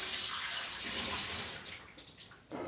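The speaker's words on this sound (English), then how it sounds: "I'm going to just wet my hands for this" Tap water running steadily as hands are wet while mixing onion bhaji batter in a home kitchen, a continuous close splashing flow that thins out near the end.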